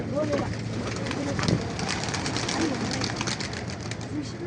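Pigeons coo softly from a rooftop loft in Imbaba, with a few low calls half-buried under gusty wind noise and people talking nearby.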